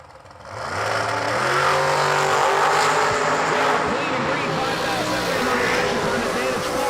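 A Shorty Race Tech Chassis dragster launches at a drag racing event, its engine rising quickly into a loud, sustained roar with shifting pitch, while an announcer talks over it.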